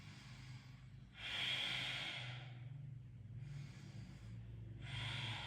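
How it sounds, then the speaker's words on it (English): Slow, deep breaths drawn while a yoga pose is held: two long airy exhalations and then a third breath, close and steady, with a soft rhythmic hiss over a low background hum. "And then just holding and breathing."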